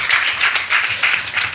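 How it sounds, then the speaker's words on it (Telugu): A congregation at Sunday worship claps in praise of God, with loud, close applause pulsing in rhythmic bursts over a brief stretch. "చప్పట్లు కొట్టి దేవునికి స్తోత్రం చెప్పాలి"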